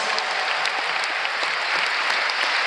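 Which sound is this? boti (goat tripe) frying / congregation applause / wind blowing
congregation applause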